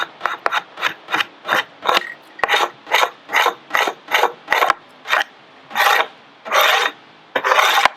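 A hand scraper pulls heat-softened paint off wooden trim, warmed with a Cobra Speedheater, in about sixteen close, raspy strokes with short pauses between them. The strokes grow slightly longer toward the end, and no voices are heard.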